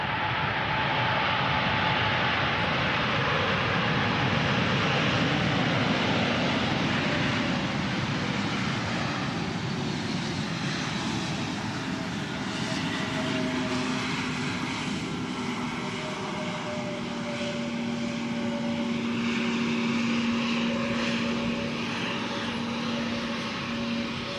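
Airplanes landing at Wellington Airport on a windy, gusty day, a loud continuous engine roar with a slowly shifting whine as an aircraft passes close, wind noise throughout.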